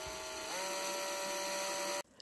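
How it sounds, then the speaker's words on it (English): A power drill runs steadily as it bores holes through an IKEA Komplement board for a hamster cage handle, a loud, even whine lasting about two seconds that cuts off abruptly. "So now I've just got to drill them all the way through for this."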